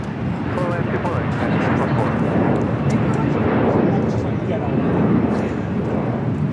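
A fixed-wing airplane lands on runway 24 right at LAX, a loud continuous broadband engine roar that stays steady throughout, heard close and alone.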